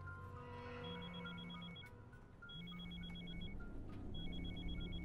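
A phone rings in repeated electronic bursts, three ring cycles with short pauses between, fairly quiet over a low room hum.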